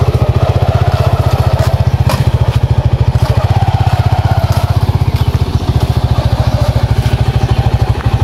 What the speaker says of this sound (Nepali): अब बाइक चाहिँ म स्टार्ट गर्छु।